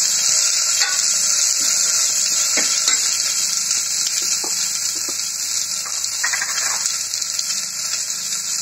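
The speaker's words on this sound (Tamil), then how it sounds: "நல்லா வதக்கிக்கலாம்" Two onions, sliced into long strips, sauté in hot oil for parotta salna, giving a loud, continuous sizzle broken by scattered scrapes and taps of stirring, with no talking.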